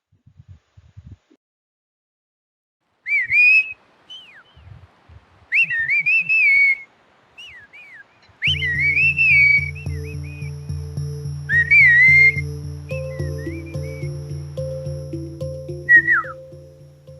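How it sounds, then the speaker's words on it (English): Whistled Mazatec language from Oaxaca, Mexico: bursts of clear, gliding, pitch-shifting whistles in phrase-like groups, with a low musical backing entering partway and continuing beneath the whistling. "Here's an example of whistle language in the Mexican province of Oaxaca."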